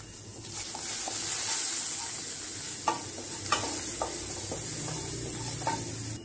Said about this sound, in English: Now mix them all together.